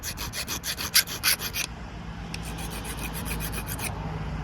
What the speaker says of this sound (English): let's do a scratch test on these just to make sure they're not aluminum